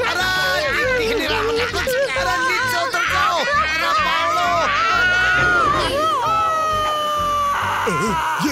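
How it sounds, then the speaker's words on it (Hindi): A cartoon character screams in an Indian animated children's show, with long wavering high-pitched yells over dense, loud babble of other voices and shouting throughout. "ये कौन चिल्ला रहा है?"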